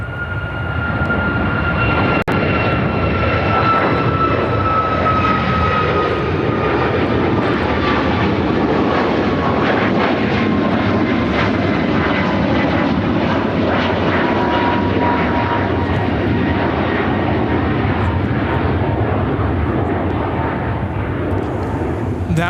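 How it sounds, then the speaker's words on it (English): United Airlines Boeing 737 MAX 8 taking off from Chicago O'Hare bound for Boston: loud, close jet roar with a whining engine tone sliding downward as it passes, sustained throughout, with voices faintly present. "That was United Airlines 1332 taking off to Boston on the MAX 8"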